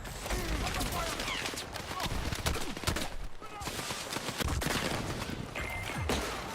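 Gunfire in the Battlefield 6 video game, with rapid automatic bursts and scattered shots crackling through a busy battle soundscape, loud and dense throughout, with a speech-like layer mixed into the noise.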